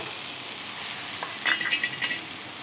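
Stuffed brinjals with turmeric frying in a pan give a steady, close sizzle, with a few louder crackles and stirring clatters near the end.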